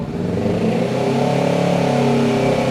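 Revving of a 2017 Honda Rebel 500 motorcycle with an aftermarket exhaust, a loud, close, continuous engine roar that rises and holds steady with no pauses.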